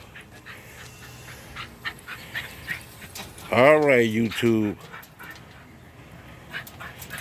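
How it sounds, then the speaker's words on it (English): A dog whimpers and pants while a child plays with it, soft panting under a low background, then a brief close burst of high whining cries mid-clip, with someone speaking briefly. "playing with the dog."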